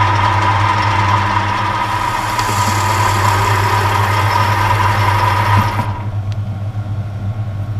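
A metal lathe takes a light skim cut on a 1945 Willys Jeep pulley that is being refurbished to stop an oil leak at the boss seal. A steady, loud machine drone hums close by, then eases slightly in tone near the end.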